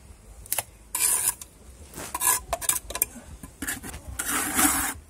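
Mortar being packed by hand into the gaps between stones around a 200-litre steel barrel tandoor: close, gritty scraping and slapping of a trowel in short irregular bursts, without speech.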